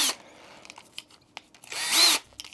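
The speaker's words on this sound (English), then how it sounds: "I've got a fully charged battery for my drill" A cordless drill fitted with a mixing paddle spins on a slow setting to mix a bag of concrete with water, one brief whirring burst after a pause with faint scraping around it.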